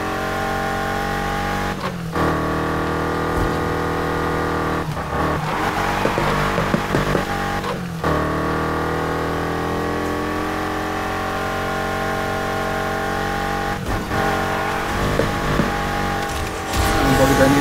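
Car racing in Need for Speed Heat, a steady loud engine drone with rising and falling revs and gear shifts throughout, tire and road noise layered over game sounds.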